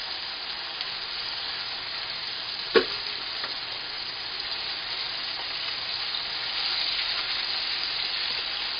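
Ruffed grouse pieces sizzle steadily in hot frying oil, a continuous even crackle with one sharp pop near the start and no talking.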